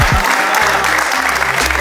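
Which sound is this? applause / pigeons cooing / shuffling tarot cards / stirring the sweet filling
applause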